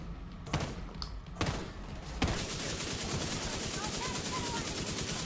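Bursts of gunfire in The Division 2, two or three sharp shots early on, then sustained rapid automatic fire that runs to the end under a voice.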